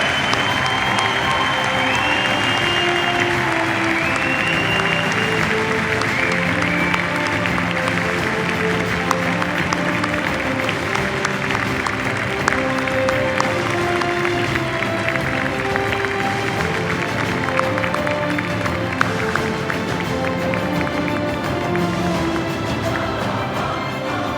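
A live audience at the Sadri Alışık acting awards ceremony in Turkey applauds steadily and loudly throughout, dense clapping from a large crowd with faint cheering underneath.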